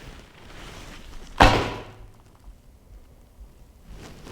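A Bear Magnum bow with no limb padding, shot split-finger without a nocking point, releases its string in one sharp, loud, close thwack with a short humming tail, followed by near silence.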